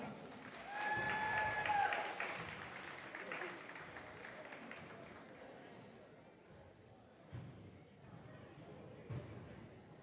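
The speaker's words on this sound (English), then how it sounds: "give them a great round of applause for all their accomplishments this season" A high school audience applauds honorable mention honorees, the clapping loudest at first and then thinning out, with some crowd murmur underneath.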